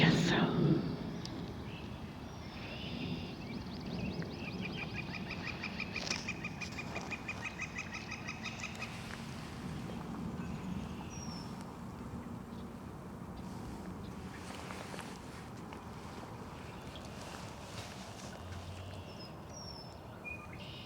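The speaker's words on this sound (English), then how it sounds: "Geese." Geese honk and cackle intermittently over a long stretch, some calls near and loud, others distant, mixed with faint outdoor rain and occasional talking voices.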